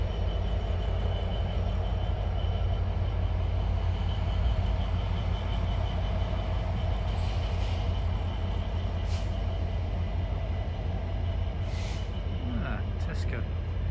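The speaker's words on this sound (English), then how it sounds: "don't think this freight train's in a hurry to get anywhere, is he?" A freight train rolls slowly past, a steady low rumble with faint squeals and clanks that holds at the same level throughout, while someone talks over it.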